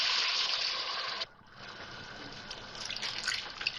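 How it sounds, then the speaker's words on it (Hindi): Water pours steadily into a pot of vegetable pulao as it cooks. A bright, even gush runs for about a second, then breaks off into quieter trickling and small splashes. "अब इसमें गलाने के लिए पानी डाल रही हूँ।"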